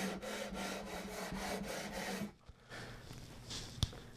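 Abrasive strokes of a 120-grit leveling bar sanding a guitar fretboard, a steady back-and-forth rubbing for about two seconds, then quieter scraping and a sharp knock near the end.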